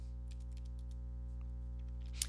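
Quiet, uneven tapping on a computer keyboard during a search on a census data website, sitting over a steady low hum, with one sharper click near the end.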